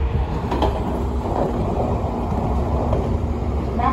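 A Sagami Line E131 series train rumbles steadily along the tracks between Atsugi and Ebina, running alongside a Sotetsu 8711F train, a continuous low roar with faint rattling, heard from inside a carriage.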